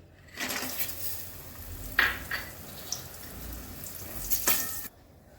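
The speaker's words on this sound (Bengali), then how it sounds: "এবার বড়ি কটা ভেজে নিচ্ছি।" Bori lentil dumplings frying in hot oil in a home kitchen, a steady soft sizzle with a few brief clinks of a utensil against the pan, then ending abruptly.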